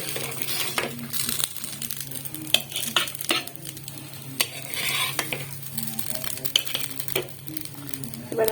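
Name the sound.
oats cutlets frying in pan, being lifted out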